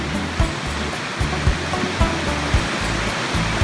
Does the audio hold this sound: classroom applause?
no